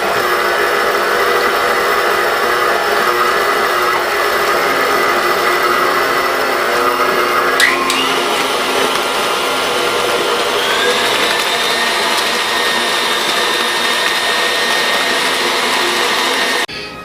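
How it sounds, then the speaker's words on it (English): An electric stand mixer whirs loudly and continuously while bananas are beaten into banana bread batter with shortening, sugar and egg, its pitch shifting upward midway as the load changes, then cutting off at the end. "we turn it on, and we start to incorporate our bananas. One at a time. Let the machine do the work."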